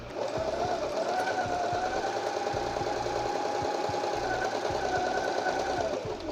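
A Singer 8280 sewing machine runs continuously, stitching a decorative pattern. Its needle makes a steady, rapid mechanical chatter close by, with no talking.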